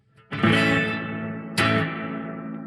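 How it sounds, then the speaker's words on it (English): Two strummed electric guitar chords pass through an Oceans 11 reverb pedal, each loud attack followed by a long, washy tail that decays slowly, heard alone. "Then you just get into more of a reverb with that effect."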